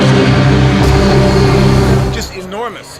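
DSI Prophet X synthesizer playing an organic cello- or bass-like sample stretched across the whole keyboard, a loud sustained low tone that swells, then bends and wavers as it fades toward the end.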